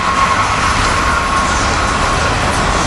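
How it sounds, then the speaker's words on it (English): Amtrak Keystone 9645 rushes through Cornwells Heights station at rush hour, a loud, steady rail roar with a faint high wheel tone running throughout. "Here we got the Keystone 9645."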